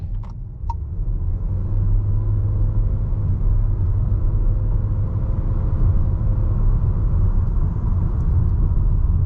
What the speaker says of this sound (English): give it a little half throttle acceleration, see how it does